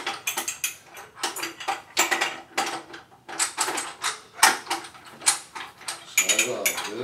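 Bear claw wrench slid off a pipe flange, a run of loud close metallic ratcheting clicks and clanks in quick bursts with brief pauses between, no talk.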